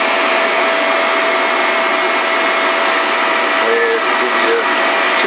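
A Delta Rockwell 11x26 variable speed metal lathe, driven by a new 7 horsepower motor through a 3-phase inverter, runs with a steady loud whirring hum and a faint whine, unchanging throughout.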